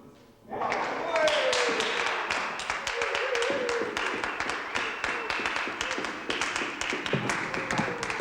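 Art students in a classroom break into clapping, a sudden burst of many hands that starts abruptly and keeps up as a dense, even patter near and moderately loud.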